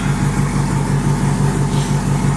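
A car engine with a loud aftermarket exhaust idles nearby in a deep, evenly pulsing burble that stays loud and steady throughout, with no talking.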